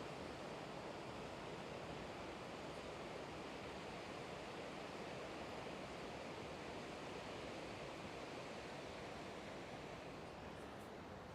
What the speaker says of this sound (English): Checking out the sound of the ocean